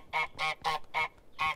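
The cartoon goose in Untitled Goose Game gives five quick, nasal honks in a steady rhythm, close and alone.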